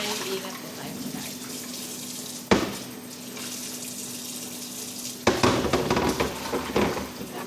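Dishes washed at a kitchen sink after a dinner with guests: a steady stream of running tap water with a couple of sudden louder splashes and clattering near the end.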